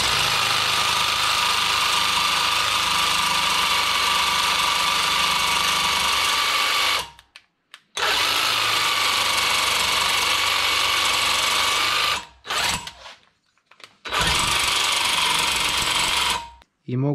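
Parkside cordless reciprocating saw held loosely in the hand, its motor whirring loud and steady in long bursts that cut out briefly between runs, with short pauses and a final restart.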